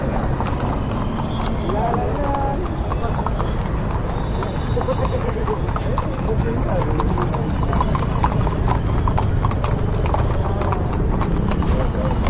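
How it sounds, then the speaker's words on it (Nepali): Trained horses at the Ghode Jatra festival on Tudikhel clip-clop in a continuous rhythmic patter of hooves, with an occasional whinny, amid a loud crowd murmur and people talking nearby. "यिनीहरू चाहिँ यो ट्रेनिङ प्राप्त घोडा हो भित्र उफ्रिने घोडाहरू यिनै हो"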